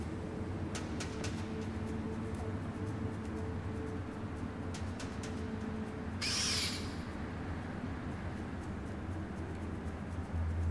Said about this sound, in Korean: 여기서 올빼미 한번 쓸까?